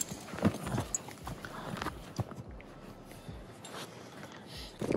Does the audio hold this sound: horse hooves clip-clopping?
yes